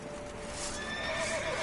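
A horse neighs in The Witcher 3, a clear rising whinny with faint hoof clip-clop beneath, set over a steady bed of game music and ambience.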